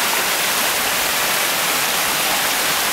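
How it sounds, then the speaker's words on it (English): A loud, unbroken roar of falling water fills the scene, a dense steady hiss from a waterfall very close at hand. "I guess you can hear the waterfall."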